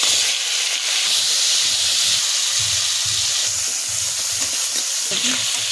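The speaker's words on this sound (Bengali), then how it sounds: "কড়া গরম হয়ে গেছে, আমি কাঁকড়াটা ভেজে নেব।" Crab rubbed with salt and turmeric fries in hot oil in a wok, giving a loud, constant sizzling hiss with soft stirring knocks underneath, close and unbroken throughout.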